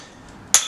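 Single sharp hammer strike on a chisel during traditional hand-tool stone carving, a bright brief clink rising over a quiet background.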